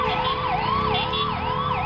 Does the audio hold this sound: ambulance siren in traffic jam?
yes